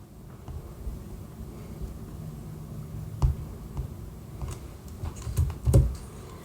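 Steady keyboard typing on a computer, with close, continuous key clicks that build into a few louder clustered strokes near the end. No voices.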